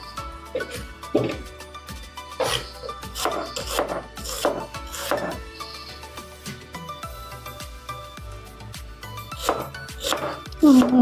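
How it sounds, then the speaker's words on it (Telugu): A knife finely chops onions on a board in a steady run of crisp, close taps, some quicker clusters between brief pauses, with background music playing under the cutting. "ఇప్పుడు ఆనియన్స్ని కూడా సన్నగా కట్ చేసుకొని"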